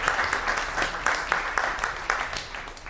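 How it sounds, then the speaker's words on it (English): A debate-show audience gives a short round of applause, a moderate patter of scattered hands with a few sharper claps standing out, fairly even throughout. "One round of applause for Matthew"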